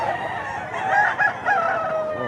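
A gamefowl rooster crows in a long, wavering call, fairly close and loud, with faint background murmur and clucking around it at a market.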